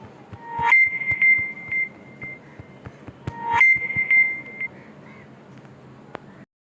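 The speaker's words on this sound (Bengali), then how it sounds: "আমরা যতবারই টাচ করতেছি ততবারই রিংটোন বেজে উঠতেছে।" A mobile phone's anti-theft alarm goes off when touched, sounding two loud bursts of shrill electronic ringtone beeps a few seconds apart, close by, with quieter clicks between and no talk.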